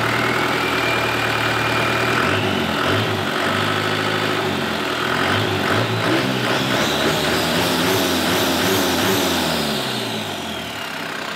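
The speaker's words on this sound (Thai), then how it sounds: "ผมฟังเสียงหน่อยพี่ นี่รถที่เข้ามาใส่โบนะครับ" A turbocharged motorcycle engine at a garage in Khlong 7, Pathum Thani runs loud and close, idling steadily before revving up with rising pitch and easing back down near the end.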